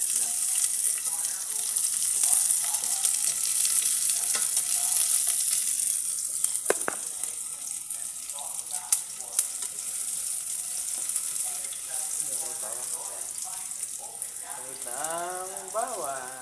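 Onions and garlic sizzle in a pan with a continuous close frying hiss, broken by a few clinks of a stirring utensil. A voice speaks briefly toward the end.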